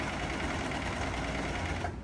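Sewing machine stitching track pants fabric, a steady continuous whirring hum that runs loud and close, then cuts off abruptly near the end.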